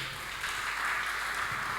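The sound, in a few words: congregation applause in church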